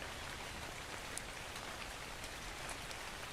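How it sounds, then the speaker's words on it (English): Steady rain falls in the video game ECO, a dense even hiss of drops on surfaces that holds at the same level throughout, with no talk. "Sounds like it's raining."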